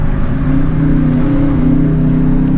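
A 2017 Dodge Challenger R/T with a V8 Hemi engine rumbles and revs while shifting, a loud, close, steady low drone with a slight rise in pitch, heard alone.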